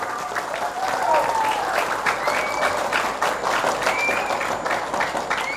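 An audience at a religious talk claps for the Bustanul Ulum Islamic boarding school, steady dense applause sustained from start to finish with a faint voice or two underneath.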